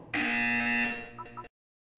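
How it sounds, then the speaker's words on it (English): Test chamber buzzer from the video game Portal 2: a single loud, harsh electronic buzz lasting over a second, then a couple of short stuttering tail blips before cutting off to silence. "You will hear a buzzer."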